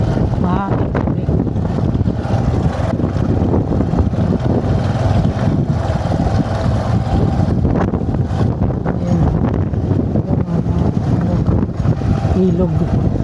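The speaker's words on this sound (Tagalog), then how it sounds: "Mahangin din." Strong wind buffeting the microphone at an outdoor river crossing, a constant loud roar with gusty rumble throughout.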